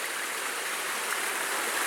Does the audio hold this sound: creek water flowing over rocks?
yes